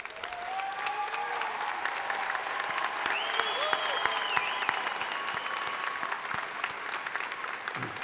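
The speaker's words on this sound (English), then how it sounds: "let's give them a round of applause." At a university commencement, the audience applauds standing graduates with a broad, steady wash of clapping, some whoops and voices rising briefly in the middle.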